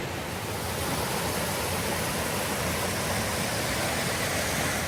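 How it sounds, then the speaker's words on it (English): Someone wades through a shallow river on a snowy spring forest hiking trail while close, loud, continuous rushing water fills the sound with no voices. "I've just got to wade through the trees and the river."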